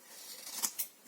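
Scissors snipping through thick card stock while cutting a piece for a handmade shaker card, two quick close crisp cuts, alone and fairly quiet.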